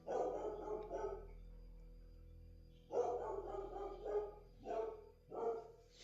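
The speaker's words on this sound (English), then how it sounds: "Someone's upsetting Susie, next door neighbour's dog" A neighbour's dog barks from next door. A quick run of barks comes first, then a pause and several more barks in uneven bursts. The barking is moderately near and clear, with no talking.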